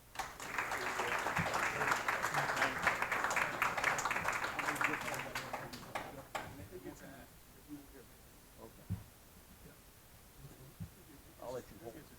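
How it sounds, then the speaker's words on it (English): An audience applauds at a high school hall of fame ceremony, a burst of clapping that swells for several seconds and then thins out, followed by quieter room sounds and a few scattered claps. "let's give them a round of applause"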